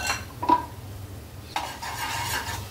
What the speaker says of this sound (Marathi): इथं आपला मसाला परतत आहे